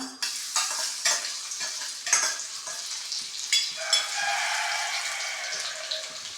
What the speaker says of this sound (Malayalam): എണ്ണ ചൂടായി അതിലേക്ക് നമ്മൾ ഇഞ്ചി വെളുത്തുള്ളി അരിഞ്ഞു വെച്ചത് ഇട്ട് കൊടുക്കാം